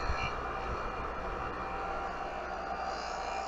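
A single-phase induction motor on a Smithy lathe/mill/drill combo spins at 3450 RPM, making a steady, fairly loud mechanical hum with a slight vibration throughout.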